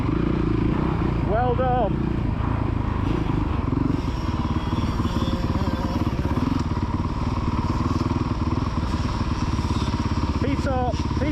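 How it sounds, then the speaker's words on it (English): A kid's motocross bike on the Astley MX main track revs in rising bursts near the start and end over a constant rumbling, noisy outdoor background, with people talking and shouting throughout. "Right, power on now. That's it, rev it up."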